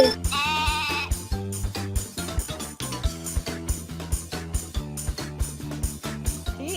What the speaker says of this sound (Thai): มันไม่สมเหตุสมผลที่ผมต้องขี่แกะเลยอะ